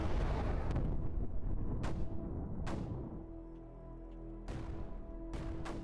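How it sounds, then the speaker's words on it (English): Mortar and artillery fire in the strategy game Creeper World 4: several sharp booming launches at intervals over a steady rumbling battle drone, each blast loud and followed by a decaying tail. "Let's get a mortar overlooking this corner"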